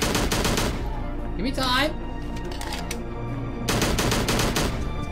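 Rapid gunfire from a gun in the game Slendytubbies 3, bursts of quick shots at the start and end of a five-second stretch, with someone talking over a pause in the middle.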